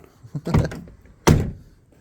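Skoda Superb car door during a door replacement, a muffled clunk as it is pushed, then a single solid close thunk as it shuts, with no talk.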